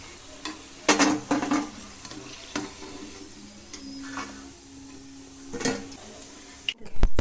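Crispy rice pakoras fry in hot oil until golden brown. A faint, low sizzle runs underneath, with scattered scraping clicks and clinks from a utensil moving them in the pan.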